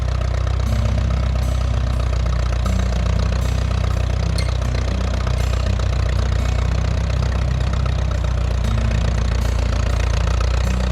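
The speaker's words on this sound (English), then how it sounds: "now he's got to even everything out again with the grader" A grader's heavy diesel engine rumbles steadily and close while leveling gravel during two-foot-gauge railway construction, a continuous low drone with no voices.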